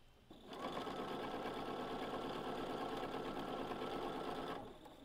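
A sewing machine runs continuously for about four seconds, stitching quilt block pieces together, a close, steady, rapid mechanical whir that starts and stops cleanly.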